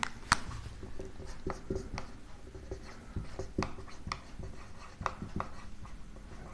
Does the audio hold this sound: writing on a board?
yes